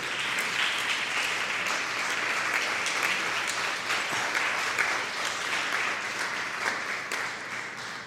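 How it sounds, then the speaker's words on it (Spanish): A church congregation at a Spanish-language missions service breaks into sustained applause, a dense wash of clapping hands that holds steady and fairly loud before easing slightly toward the end. "Dele un gran aplauso a nuestro Padre que nos envió"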